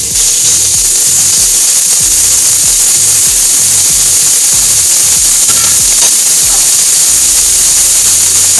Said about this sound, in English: I'm going to go ahead and add the bacon here and let it render